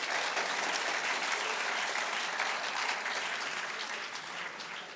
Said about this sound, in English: I was asking you all to clap.